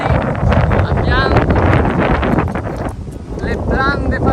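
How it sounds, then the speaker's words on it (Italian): Strong wind buffets the microphone outdoors on a hike near natural thermal pools in France, with a steady roaring rumble throughout and people talking over it. "C'è un sacco di vento"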